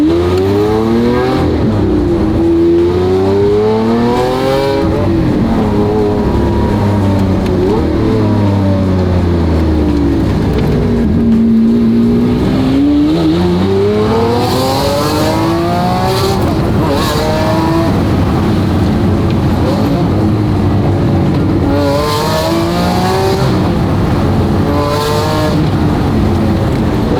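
A Lamborghini Aventador's engine revs and drives, repeatedly surging up through sharp, loud climbs and dropping back between shifts, close and aggressive throughout, with occasional voices underneath.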